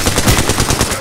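A quick, loud run of rapid gunshots from Apex Legends, about a dozen evenly spaced cracks fired in one sustained automatic burst.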